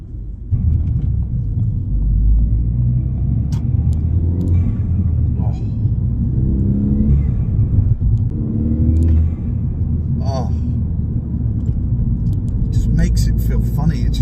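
A Ford Fiesta ST driven on the road, its engine a steady low rumble filling the whole stretch, while someone talks over it throughout.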